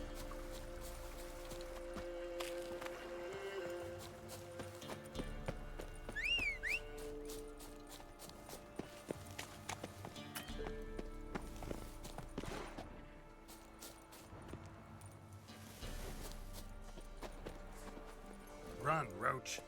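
Geralt's horse Roach gallops in The Witcher 3: Wild Hunt, a rhythmic clip-clop of hooves running under game music, with someone talking over it.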